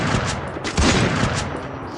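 M82B sniper rifle fire in a mobile shooting game, heavy booming shots close and loud, overlapping in a dense burst over a couple of seconds.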